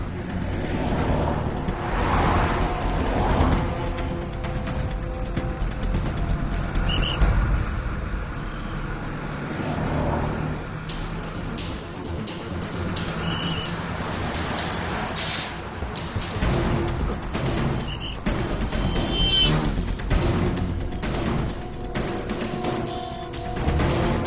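A bus in traffic with its engine rumbling and air brakes hissing, heard close and fairly loud with shifting road noise throughout and no clear speech.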